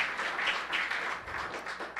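A church congregation claps in a soft, distant patter of applause that swells and fades in waves across the room, with no voices standing out.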